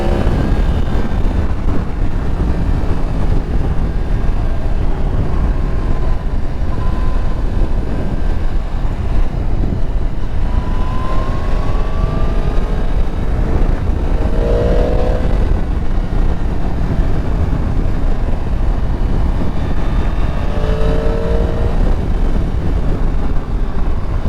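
A 2022 Yamaha MT-10 motorcycle cruising at motorway speed in third gear, its steady engine drone buried under heavy, continuous wind rush across the microphone, with a few brief rising tonal sweeps along the way.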